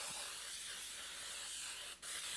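A continuous hissing spray from an aerosol can of nonstick cooking spray onto a fluted pan, close and steady for a couple of seconds, with a brief pause and a final short burst.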